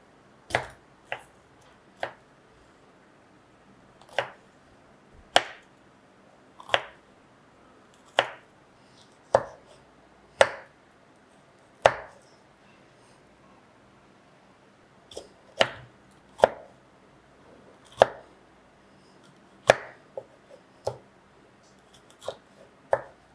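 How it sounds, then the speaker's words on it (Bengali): Knife chopping three kinds of capsicum on a cutting board: sharp, separate thuds spaced about one to two seconds apart, with brief pauses between bursts, close and clear with no talking. "এখানে আমি ক্যাপসিকাম নিয়ে নিয়েছি 3 ধরনের, আর এটা আমি একটু কেটে নিব"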